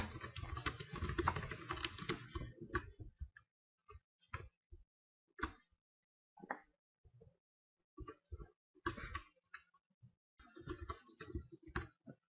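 Commands are typed on a computer keyboard in quick bursts of close, crisp key clicks separated by short pauses, with a denser flurry at the start.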